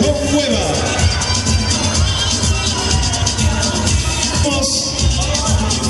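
Audience applause for a candidate at a 2011 beauty pageant: a dense, steady wash of crowd noise with scattered cheers that holds loud for the full length, mixed with voices.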